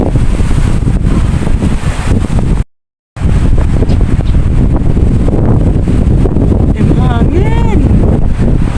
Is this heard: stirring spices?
no